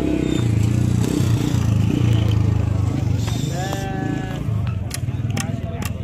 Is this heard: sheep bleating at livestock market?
yes